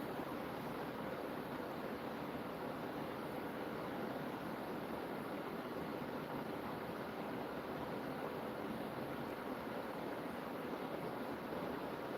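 Ocean waves playing from a floor projection setup, a steady, faint wash of surf noise with no distinct breaks, heard alone.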